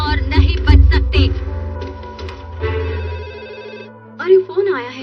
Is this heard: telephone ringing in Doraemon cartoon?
yes